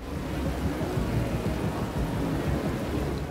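A thunderstorm in Forza Horizon 3 delivers heavy, steady rain with a deep rumbling roar that runs continuously at close, loud level.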